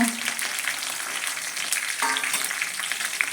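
Dried red chillies and curry leaves drop into hot oil with browned onions for a Kerala pomfret curry, giving a loud, close, continuous sizzle and crackle with a brief stir partway through.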